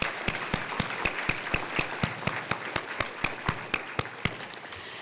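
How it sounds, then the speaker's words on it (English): Audience at a Duke nursing gala celebration claps in a crisp, steady rhythm, with sharp evenly spaced claps standing out over a continuous wash of applause throughout. "Let's give her a round of applause"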